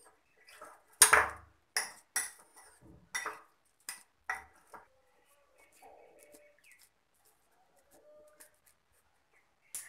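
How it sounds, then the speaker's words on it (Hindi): Boiled potatoes being mixed with masala for aloo chaat, giving a series of sharp clinks and scrapes of a spoon against a bowl, loudest early and fading into softer, sparse taps. "एबे आमे मसला और आलू को भलो भाबरे मिक्स करी नबा।"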